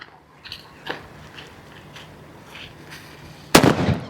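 After a few seconds of faint rustling and small pops, one sharp, loud Sivakasi firecracker bang bursts out near the end at a bus stop and rings briefly.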